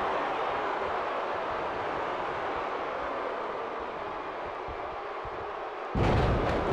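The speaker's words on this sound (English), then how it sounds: "Thunderous slam." At a women's pro wrestling show, a steady crowd roar fills the hall until a sudden loud thud lands near the end as a wrestler is slammed onto the ring mat.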